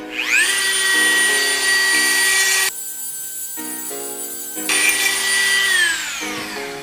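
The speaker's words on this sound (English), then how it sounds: "I'm gonna use my angle grinder for that" Angle grinder cutting through a steel drum brake part on a car, a loud sustained high-pitched whine that dips in pitch and tone as the disc bites into the metal, then rises again near the end.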